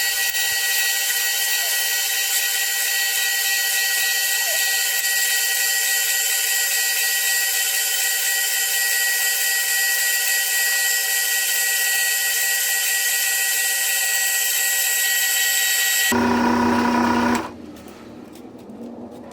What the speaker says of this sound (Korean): 표시된 위치에 4mm 구멍을 뚫어줍니다.